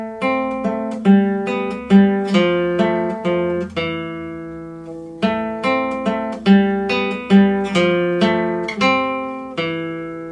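Classical guitar playing the middle section of Malagueña, a flowing run of plucked melodic notes over ringing low bass, steady and close, with a short pause midway before the phrase resumes.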